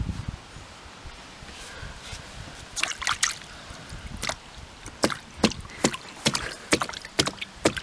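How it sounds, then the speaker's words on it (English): Intermittent light water splashes and sloshing in a kiddie pool, several quick bursts in the second half over a quiet outdoor background. "They're probably splashing it."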